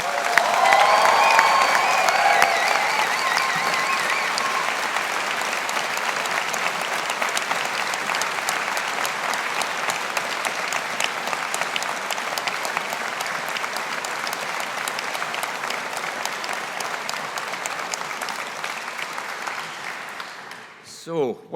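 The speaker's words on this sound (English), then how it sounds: "let's give this class of 2022 a big round of applause" Sustained applause from the crowd at a Strathclyde Business School graduation ceremony for the class of 2022, dense and steady for about twenty seconds with faint cheering in the mix, then tapering off abruptly at the end.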